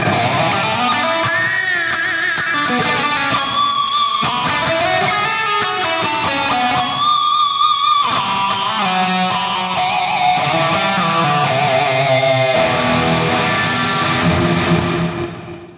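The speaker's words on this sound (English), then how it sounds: "I can quickly turn my delay and my reverb on" Electric guitar phrases drenched in delay and reverb, notes echoing and trailing into each other, loud and continuous.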